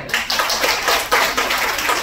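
A small group claps for about two seconds, a steady patter of hands close by in a classroom-like setting, with no talk over it.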